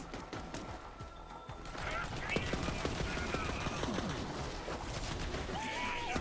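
Pump-action shotgun blasts and gunfire from Borderlands 3 crackle amid busy game effects, sharp bursts repeating over a dense background while someone talks over the action.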